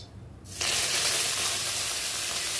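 Mustard seeds, cumin and curry leaves hit hot oil for tempering, bursting into a loud, steady, close sizzle after a short quiet moment.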